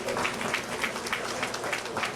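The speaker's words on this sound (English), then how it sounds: "Let's give her another round of applause." Steady applause from an audience at a post-budget forum, a moderate, even wash of clapping with a faint murmur of crowd underneath.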